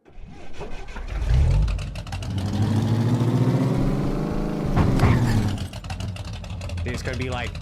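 A car engine in a Unity3D driving game revs up and holds a high, rising whine, drops back, then surges again, loud and close, with a voice talking around it.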